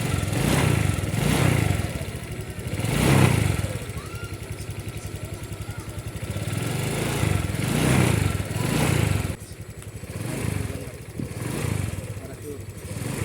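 A Honda Click 150 scooter engine idles steadily with a rapid, even putter, close by, its level swelling slightly a few times; no one speaks.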